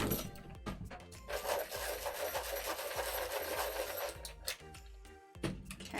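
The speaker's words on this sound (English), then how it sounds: "let's go ahead and give this a quick sharpen" A colored pencil is sharpened in a continuous scraping, grinding rasp lasting several seconds, with a few faint clicks and knocks around it; quiet and close, with no talking.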